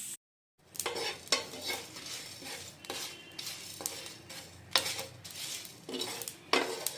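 Whole spices dry roasting in a pan, stirred with a utensil in repeated scraping strokes that clink against the metal, close and clear, with no one talking.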